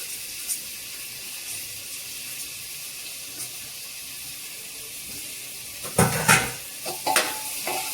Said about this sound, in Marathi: हे सर्व छान परतून घ्यायचं।